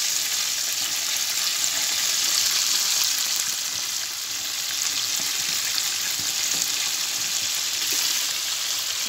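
Chicken broast pieces frying in hot oil, a steady, dense sizzle and crackle that holds close and even throughout with no talking.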